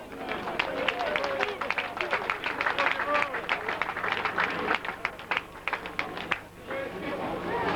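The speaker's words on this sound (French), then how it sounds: "mesdames, messieurs, vos applaudissements" A street crowd at the Mi-Carême carnival parade in Coëx claps in a busy, rapid patter that rises, thins and fades toward the end, with voices chattering underneath.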